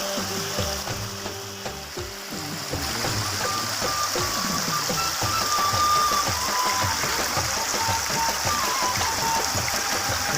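River water rushes steadily in Neelum Valley, Azad Kashmir, a loud continuous churning wash with no talk over it.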